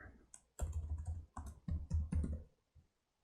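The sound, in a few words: computer keyboard typing text in After Effects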